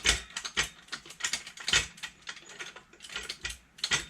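A ratchet wrench loosens bolts on a Ford Escape's lower control arm, giving repeated close clicking bursts in an uneven working rhythm with no talking.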